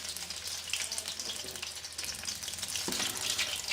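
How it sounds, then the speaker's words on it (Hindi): Samosas frying in a pan of hot oil, giving a steady, dense sizzle and crackle that runs close and even from start to finish, with no voices over it. "ऑयल मेरा गर्म था तो मैंने ऑयल में डाल ली थी"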